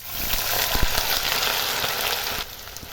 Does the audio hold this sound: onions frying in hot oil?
yes